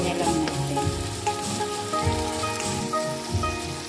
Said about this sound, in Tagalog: Ilagay na natin yung bawang tsaka yung sibuyas.